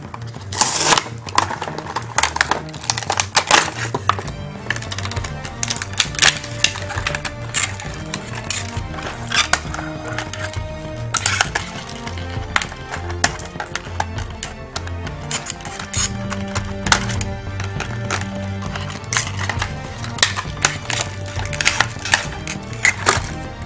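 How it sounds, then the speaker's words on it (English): Busy close-up rustling, clicking and snapping of cardboard and plastic as Transformers toy packages are opened and figures handled, with irregular taps and clatters throughout and brief faint speech. "let's go ahead and open up these fun toys and play with them"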